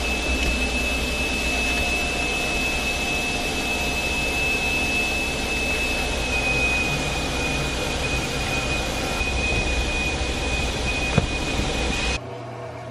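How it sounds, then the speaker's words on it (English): A vacuum cleaner runs continuously inside a car interior, giving a loud, steady roar with a high whine on top, shifting slightly as the nozzle moves, then cutting out abruptly near the end. "I just need to vacuum it out really quickly."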